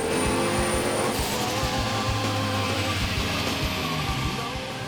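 Garrett T51R turbocharged 355 Commodore engine strapped down on a dyno, a loud sustained high-revving roar with a whining tone and steady intensity from start to end, no voices.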